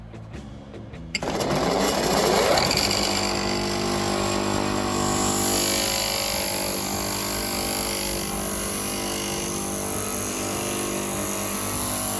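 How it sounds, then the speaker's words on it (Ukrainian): A bench machine grinds the tangs of guitar frets for a Telecaster-style build, starting up after a brief quiet moment and then running as a steady, loud whine with a metallic grinding edge. "перший етап інсталяції ми з вами підтачуємо ніжки ладів на верстаті"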